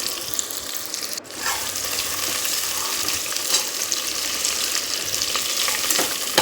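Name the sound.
sliced onions frying in oil for mushroom biryani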